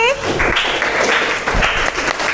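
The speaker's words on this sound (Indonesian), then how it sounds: "Tepuk tangan buat Ellery" Classroom applause for a student answering a math question, a short burst of clapping from a class that stays steady for about two seconds, with a voice speaking over it.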